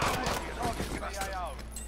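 Rapid bursts of gunfire from a squad-based online shooter game firefight, sounding under excited voices talking over each other.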